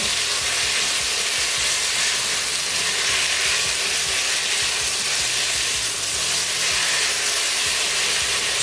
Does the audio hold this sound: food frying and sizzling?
yes